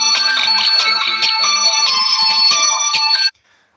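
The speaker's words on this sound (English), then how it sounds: "I don't know why my phone is ringing on the side." A phone ringtone plays loud and steady as a bright repeating electronic melody for about three seconds, then stops abruptly and leaves near silence.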